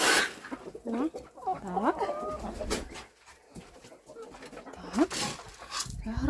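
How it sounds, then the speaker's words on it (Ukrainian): Goslings on a farm, kept alongside hens and ducklings, give repeated high peeping calls close by, rising and falling in short bursts with other poultry sounds mixed in. "гусята кричать"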